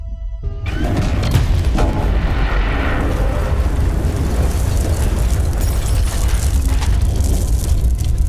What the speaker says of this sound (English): the big damn explosion that lit up the sky